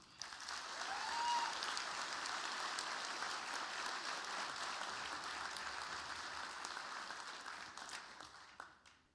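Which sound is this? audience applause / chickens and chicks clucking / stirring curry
audience applause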